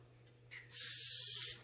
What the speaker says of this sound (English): Give the inside of your bowl a bit of a spray.